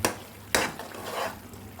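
Onion, tomato and ginger-garlic paste sauté in a pan for pepper chicken masala, a soft sizzle broken by two sharp stirring scrapes near the start, close and with no talk.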